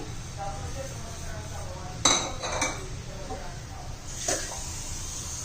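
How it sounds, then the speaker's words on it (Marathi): Metal utensils clink against a wok twice as jaggery is added for syrup, brief clatters over a quiet steady background hiss. "एक वाटीच गुळ घ्यायचा आहे आता तो घालूया आपण कढईमध्ये पाक करण्यासाठी"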